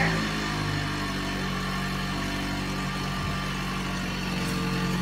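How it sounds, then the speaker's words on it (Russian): A Lexus NX200 engine, started remotely, idling steadily with a constant low hum and no voices. "То есть двигатель у нас запустился"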